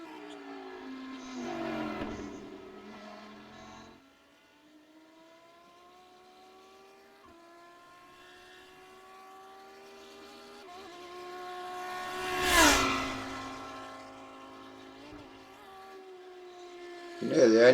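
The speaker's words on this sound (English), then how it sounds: "You can hear the engine revs rise and fall as you hit the bumps" Onboard a car lapping the Nürburgring during a 24-hour race test, the engine note climbs and drops repeatedly as the car rides over bumps, with several gear changes and a loud rising burst partway through and a roar at the end.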